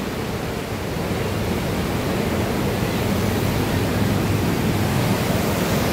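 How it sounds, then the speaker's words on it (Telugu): River water from the Somasila dam flows beneath the Penna bridge near Nellore, a dense, continuous rushing roar with no breaks, loud and even throughout. "వాటర్ ఫ్లో చూడు ఎటు పోతుందో"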